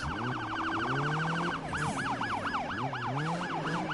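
Police car sirens in a Need for Speed racing game wail and yelp loudly, with several overlapping sweeping tones that shift into a faster rhythmic whoop partway through, no voices.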